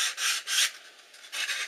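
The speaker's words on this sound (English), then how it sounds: "take your sanding block, just a basic sanding block, and just lightly go over it." A 120-grit sanding block rubbing lightly back and forth over a ribbed foam wing, several raspy hissing strokes with a short pause, close and fairly loud.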